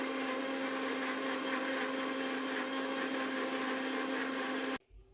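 An electric blender grinds papaya into a paste for a mutton marinade, a loud steady whir with a constant pitch that runs without a break for nearly five seconds and then cuts off abruptly.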